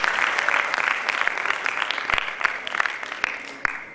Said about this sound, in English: A big round of applause from all of us here also for all our students for doing this